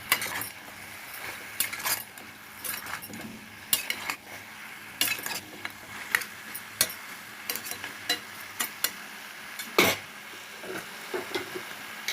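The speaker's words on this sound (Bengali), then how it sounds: "স্বাদ অনুযায়ী লবণ দিয়ে দেবো, হলুদ পাউডার, ভালো করে নেড়ে চেড়ে দেবো।" A spoon scrapes and clinks against a pot while goat meat (khaasi mangsho) is stirred with salt and turmeric powder, with a light sizzle underneath and irregular metallic taps close by throughout.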